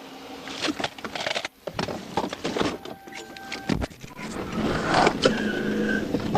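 A fleeing car in a police chase caught on a dashcam guns its engine and speeds off, tires squealing and skidding in bursts that build into a loud, sustained roar.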